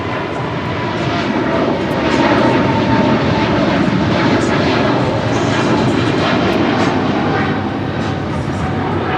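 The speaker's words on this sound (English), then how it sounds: "This is Legion Air Flight 621 and this A320." Airbus A320 jet airliner at Los Angeles International Airport, a loud, steady broadband engine roar that holds close and constant throughout, with faint radio-style voices mixed underneath.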